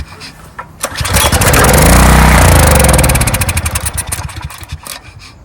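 An old Briggs and Stratton generator, 14 years old and left sitting more than five years, cranks hard in a rapid, loud rattling burst that swells and then fades into uneven sputters without catching.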